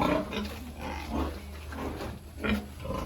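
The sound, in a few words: boar pig grunting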